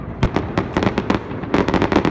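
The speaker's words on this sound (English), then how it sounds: "Fireworks lit up the southern sky on Friday to add colour to the celebrations." Fireworks bursting over a night-time celebration in Queenstown, a rapid series of loud sharp bangs and crackles, some overlapping, close and with no voices.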